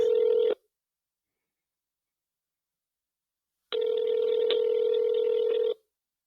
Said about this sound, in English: Dial it up. Get it on speaker.